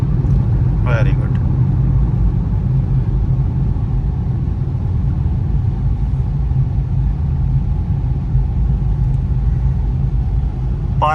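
An automatic training car drives on the road during a driving test practice around roundabouts and U-turns, its engine and tyre noise forming a steady low rumble throughout while an instructor talks over it.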